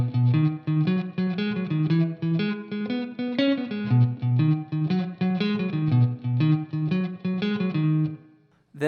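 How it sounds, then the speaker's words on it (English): A blues bass line picked on an electric guitar through a looper pedal setup, a repeating low riff of plucked notes in a steady groove, close and clear, ringing out at the end. "So the first video goes over the bass line, which sounds like this."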